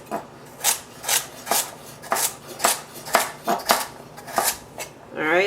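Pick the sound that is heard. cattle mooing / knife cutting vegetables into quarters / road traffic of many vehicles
knife cutting vegetables into quarters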